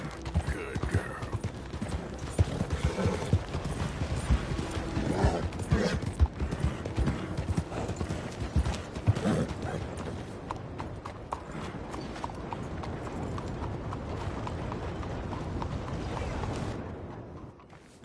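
Horse hooves clip-clop steadily in Red Dead Redemption 2, a close, continuous walking rhythm that fades toward the end, with faint background sound beneath.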